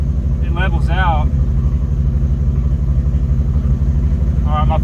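A car engine idling steadily and loudly nearby with a low rhythmic rumble, apparently a rough, low idle, with short bursts of speech briefly over it.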